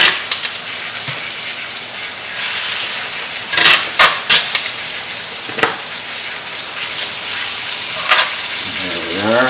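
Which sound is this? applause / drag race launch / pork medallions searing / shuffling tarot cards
pork medallions searing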